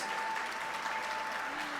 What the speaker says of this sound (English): Clap for everybody, people.